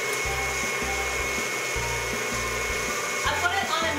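KitchenAid stand mixer at medium speed creaming butter with brown sugar, a continuous close whirring drone with a rhythmic low thumping from the beater.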